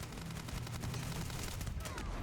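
Grendel rifle in Starfield fires rapid sustained automatic bursts, a dense continuous rattle of shots that stays loud throughout and ends in a brief crackle.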